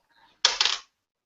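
A single die tossed onto a table during a tabletop role-playing game session, giving one short close clatter of roughly half a second, heard alone in otherwise quiet surroundings.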